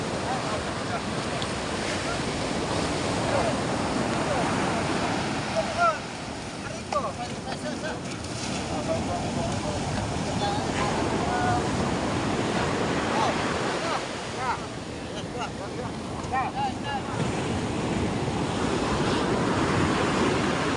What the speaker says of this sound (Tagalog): Nasalpukan pala ng alon, oh.